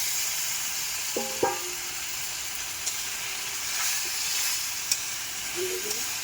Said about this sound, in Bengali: মশলার মধ্যে আলুগুলো খুব ভালো করে কষে নিতে হবে।